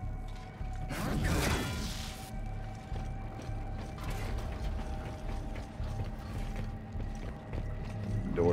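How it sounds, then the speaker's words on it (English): A heavy sci-fi door grinding and clanking shut in the horror game Callisto Protocol, a mechanical creak and ratcheting rumble over a low ambient hum, with a louder burst early on. "Door shut behind us."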